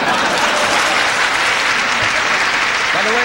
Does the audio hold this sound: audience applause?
yes